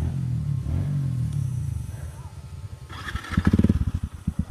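A motorcycle engine revs hard on an adventure trail ride event, a loud rising growl that breaks into rapid throbbing pulses, with voices in the background.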